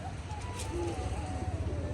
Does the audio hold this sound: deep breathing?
no